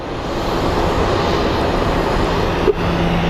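A passing airliner at Phoenix Sky Harbor airport gives a steady, loud broadband engine roar that holds evenly through the whole stretch, with no voices over it.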